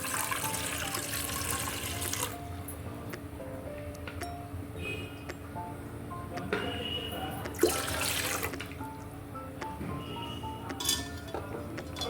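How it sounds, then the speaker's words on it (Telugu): Water poured into a rice cooker to steam jowar idli: a steady trickle of running water with scattered metallic clinks of vessels, fairly quiet and close, with no talking. "దాంట్లోకి కొద్దిగా వాటర్ వేసేసుకొని"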